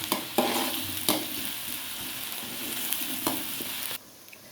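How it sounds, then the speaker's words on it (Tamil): Onions sizzle and crackle steadily in a hot pan, with a few sharp stirring clatters over the frying hiss before it cuts off near the end. "வெங்காயம் நல்லா வதங்கணும்"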